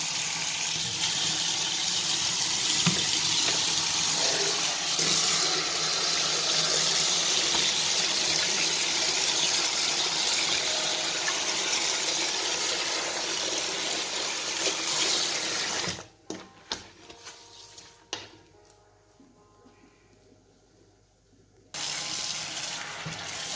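Water runs steadily from a tap to rinse a kitchen countertop after cleaning, a loud continuous splashing rush that cuts off abruptly, leaves a few quiet seconds of faint handling, then briefly resumes.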